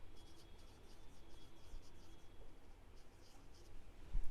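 Marker scratching an amount onto a board in a bookkeeping lesson, faint rubbing and squeaking strokes in short bursts over a low room hum.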